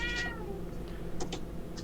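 A player's voice imitates a cat, a drawn-out meow up front and a couple of short mews later, over a steady low hum during a tabletop game session.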